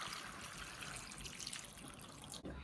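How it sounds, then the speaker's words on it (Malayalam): Water poured into a cooking pot of tapioca and meat, a steady close rushing splash that runs for about two and a half seconds before cutting off, with no talking. "ഇനി നമ്മൾ ചെയ്യേണ്ട ഇതിലേക്ക് വെള്ളം ഒഴിച്ചു കൊടുക്കാം."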